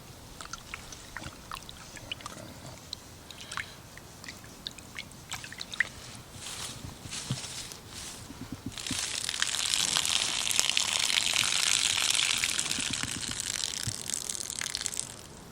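Tap water runs and splashes over freshly cleaned fish being rinsed in a sink, starting with scattered drips and clatters and then swelling into a steady gushing flow, fairly close, with no talking.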